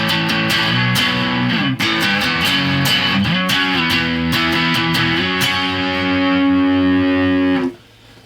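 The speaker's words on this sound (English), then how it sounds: "I have the distortion currently on noon. I have the tone control on noon and the level all the way up." Electric guitar through a Boss DS-1 distortion pedal on a Stratocaster's neck pickup, distortion and tone at noon with level maxed, chugging sustained distorted chords and riffs played loud and continuously before ringing out at the end.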